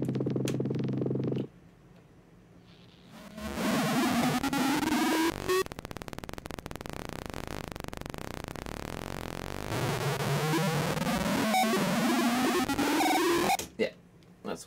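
A modular synth saw wave is pitch-sequenced through a vocoder, giving a weird, buzzing, voice-like growl. Long droning passages slide in pitch, cut off abruptly in the middle, then resume loud and harsh.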